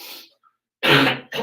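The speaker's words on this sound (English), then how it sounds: "apparently I got a little bit of a cough going." Two short, harsh coughs close by after a brief pause, the second one shorter.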